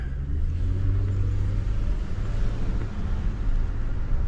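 A 2000 Lincoln Town Car engine idles in drive with a transmission that will not shift from first to second, giving a steady, close, low rumble throughout with no talk.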